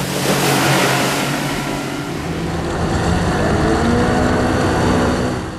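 Buccaneer 5-metre inflatable boat with outboard engine, built for twin outboards in sea or surf, drones loudly and steadily throughout as it runs over the water, with a sustained motor hum and rushing wash.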